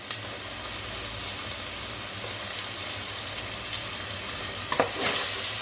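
Tomatoes sautéing in a pan for Tamil-style chicken biryani, a steady close sizzle with a low hum beneath and a brief scrape of stirring near the end, no voices.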